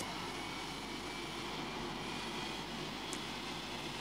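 A steady, even roar of an airplane engine drones throughout, broad and constant without pauses.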